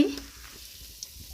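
Kangumu half cakes fry in hot oil, a steady close sizzle with a faint clink at the start and a soft tap near the end.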